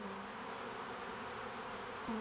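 Honeybees buzzing at the honeycomb, a faint steady hum with no voices.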